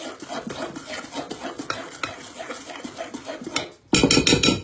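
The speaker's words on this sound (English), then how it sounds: "So you're going to just stir that around, make sure there's no lumps." Homemade soft scrub paste being stirred in a container, rhythmic gritty scraping strokes repeating quickly and closely, turning into a louder, denser rasping burst near the end, with no voices.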